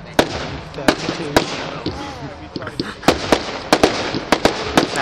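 Fireworks burst at the Stoke Park display in 2012, sharp loud cracks and bangs going off one after another in an irregular run, with crowd noise and a whistling rise underneath.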